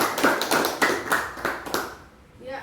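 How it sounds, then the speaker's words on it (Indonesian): Classmates clap for three students in a classroom, a short close patter of claps that fades out after about two seconds, with a voice speaking at the end. "Berikan aplaus untuk ketiga teman kalian tadi"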